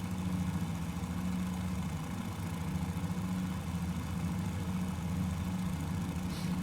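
A Fokker F VII Retrofit trimotor's engines in Flight Simulator 2020 run up on the runway, giving a steady, droning low rumble with a pulsing throb that holds fairly even, heard alone without talking.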